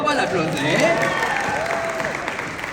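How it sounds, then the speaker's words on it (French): A studio audience applauds in a broad burst of clapping with some cheering, while voices carry on over it. "On va l'applaudir."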